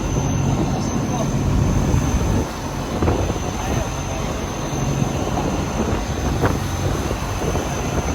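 Strong storm wind roars and buffets the microphone continuously, loud and blustery throughout with no clear pauses.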